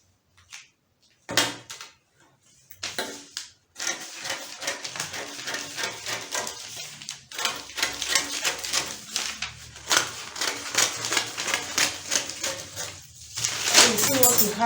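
Fabric being cut out for smocked puff sleeves, with scissor snips and handling of cloth sounding as a dense run of close, crisp clicks and rustles, while a person talks throughout.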